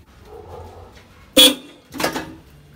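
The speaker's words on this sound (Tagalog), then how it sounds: "4 horns. Testing." Four newly installed car horns on a Mitsubishi Adventure sound in two short loud blasts, the first sharp and brief, the second slightly longer, close up with the engine off.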